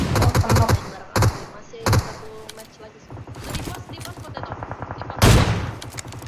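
Bursts of rapid automatic gunfire and single sharp shots in PUBG Mobile, coming in clustered volleys with short gaps between them, loud and close, while players talk over the shooting.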